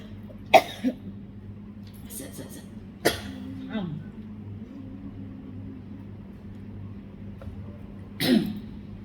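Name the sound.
coughing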